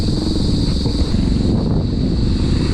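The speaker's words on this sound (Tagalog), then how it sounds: "Uy, ang hangin." Loud, gusty wind blasts against the microphone in a close, continuous rumble.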